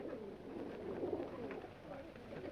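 A pigeon coos softly and repeatedly in a quiet room, faint and low against light background hiss.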